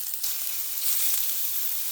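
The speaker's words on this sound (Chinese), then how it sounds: "就可以把豆腐放到锅里面了" Tofu sizzles in hot oil in a pan over low heat, a bright continuous crackling hiss close by, with no voices.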